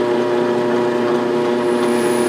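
Hole saw cutting into MDF, a steady loud grinding whir held continuously at close range with no pauses or voices.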